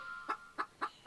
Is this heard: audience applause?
no